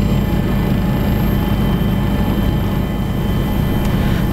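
An East Java regional police helicopter flies over the Bali Strait during the search for the sunken ferry KMP Tunu Pratama Jaya, its engine and rotors a loud, steady low rumble throughout, with no speech.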